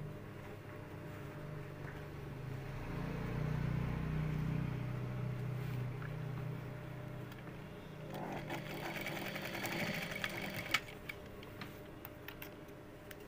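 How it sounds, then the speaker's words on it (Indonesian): A sewing machine runs a steady, buzzing stitch along the front of a skirt with an elastic waistband, slowing and stopping partway, followed by clicks and light handling noises. "Lalu kita jahit yang bagian depan sendiri."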